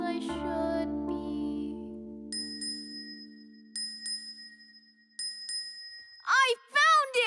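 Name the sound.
small bell ringing in a cartoon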